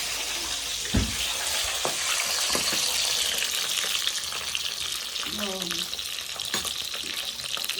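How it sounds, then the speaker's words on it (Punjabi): Brinjal slices fry in a pan with a steady, close hiss and sizzle, broken by a few sharp clinks and stirring knocks. "ਬਤਾਉਂਗਾ ਨੂੰ ਫਰਾਈ ਕਰ ਲਈਏ"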